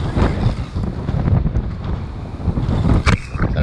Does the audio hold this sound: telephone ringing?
no